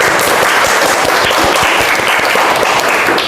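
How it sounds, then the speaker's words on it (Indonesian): Students in a classroom clapping together during a maths lesson: dense, steady applause from the whole class, close and loud, with no let-up across the few seconds. "Baik, tepuk tangan semua."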